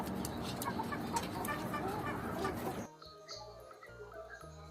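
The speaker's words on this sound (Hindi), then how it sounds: "ये है मुर्गी।" A hen clucks and crows in a farmyard, busy overlapping bird calls for about three seconds, then giving way to sparser clucks over a quieter background. No one speaks.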